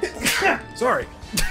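A single sharp sneeze bursts out close to the microphone during a casual gaming session, followed by a brief apologetic word spoken by the person who sneezed.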